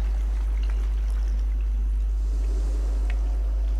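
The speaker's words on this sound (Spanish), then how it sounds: "Se vuelve a bajar el agua." Water pours and drains in a flooded dungeon area of Conan Exiles, a continuous splashing trickle over a heavy low droning hum, with occasional brief gurgles.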